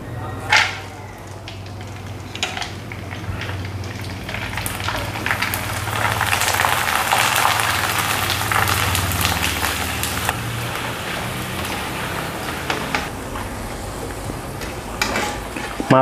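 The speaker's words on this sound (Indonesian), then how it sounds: "sekarang kerupuknya kita goreng" Nutrijell crackers fry in hot oil, a steady crackling sizzle that swells in the middle and settles, with a low hum underneath and occasional louder pops.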